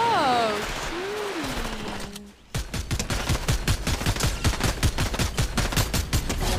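Rapid, steady gunfire in a video game runs in a dense rhythmic stream through the second half, following a stretch of voice and in-game sound at the start.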